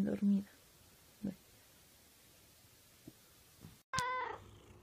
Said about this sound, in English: Take a sad meow and make it fuzzy.